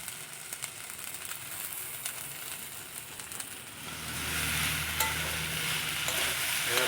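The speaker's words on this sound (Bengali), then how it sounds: "এবার ভালো করে ভেজে নেব।" Chicken pasta ingredients frying with soy, chilli and tomato sauces, a gentle hiss with light stirring scrapes that swells into a louder, fuller sizzle partway through.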